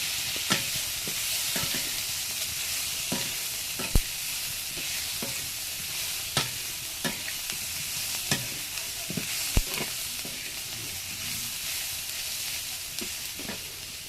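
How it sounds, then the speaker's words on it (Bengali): Onions fry on a wood-fired stove in a steady, close sizzle, with sharp scrapes and clicks of a stirring utensil every second or so and no talking. "পেঁয়াজ ভাজা হয়ে গেছে।"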